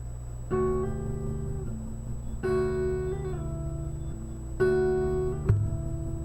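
Three sliding guitar notes ring out one after another, each rising in pitch, with a sharp tap on the guitar body near the end.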